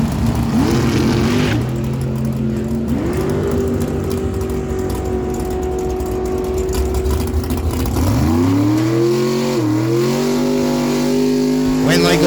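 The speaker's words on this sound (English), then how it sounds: "So Ashley Walker on the left side in the dragster with an 890 dial." A dragster at an NHRA day at Miramichi Dragway roars with a loud engine drone that holds steady, then climbs sharply in pitch as it accelerates down the strip.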